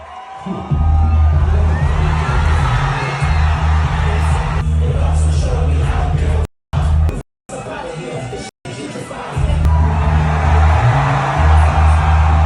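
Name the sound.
concert crowd cheering as the artist walks out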